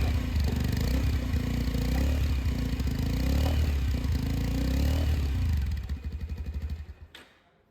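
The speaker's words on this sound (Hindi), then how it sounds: "अगर हम लोग RPM अगर देते हैं, रेस देते हैं" A 2024 Bajaj Avenger 160 Street motorcycle engine revs hard and loud through its exhaust, rising and falling in several surges, then drops back to a sputtering idle before cutting off.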